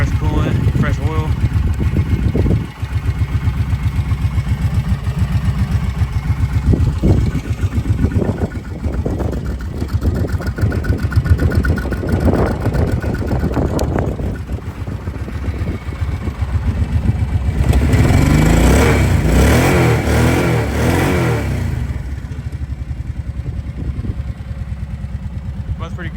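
A Kawasaki Prairie 700 quad, freshly serviced with new coolant and oil, runs loud and steady at close range, its idle rising into a rougher surge late in the run.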